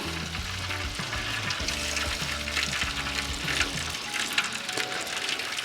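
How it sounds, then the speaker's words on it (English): Butter bastes beer can chickens on a Hunsaker drum smoker, giving a steady close sizzle and hiss with tonal background music under it for most of the stretch. "we're gonna, like I said, baste these with some more butter."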